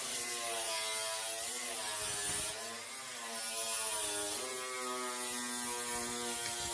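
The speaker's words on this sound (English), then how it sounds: "So we are dressing down the weld, refining it, not taking off too much" An angle grinder dresses down a weld on a steel car body panel, its motor whining in a steady high-pitched harmonic buzz that dips briefly as the disc bites into the metal, close and continuous.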